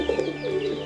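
Soft, close cooing of pigeons in their pen, a short run of low, rolling warbled coos with no voices.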